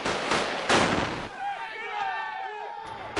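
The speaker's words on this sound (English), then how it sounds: "These pictures show a fierce firefight between soldiers of the 1st Infantry Division and a band of insurgents in the northeast of the city" Gunfire in a fierce firefight between US 1st Infantry Division soldiers and insurgents in northeast Fallujah, heard as a few sharp bursts early on, then a scattered, noisy field-recorded battle with a voice speaking over part of it.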